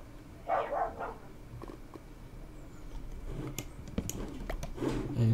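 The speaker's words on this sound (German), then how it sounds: "Wenn ihr es jetzt im Hintergrund bellen hört, das ist mein Hund." A dog barks in the background during a Minecraft play session, a few faint, distant barks standing alone over low room noise and clicking.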